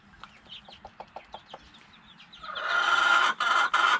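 A hen clucks loudly and repeatedly up close in a backyard coop, a string of sharp clucks building into a long, noisy squawking call that ends in a few choppy bursts.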